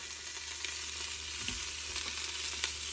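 Beef browning in a pan for beef stew gives a steady, close sizzle with faint crackles and an occasional soft stir, with no voices.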